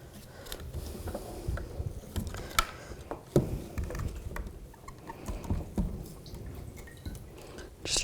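Fuel drips and patters from a removed electric fuel pump module on a 2007-13 Chevrolet Avalanche, irregular close liquid drips and small splashes with faint mechanical handling noises.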